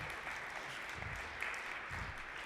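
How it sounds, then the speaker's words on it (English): Audience applause following a speaker's introduction at a technical talk, a sustained patter of clapping from a crowd, moderately distant and fairly quiet, with no voice over it. "I'm glad to hear the claps"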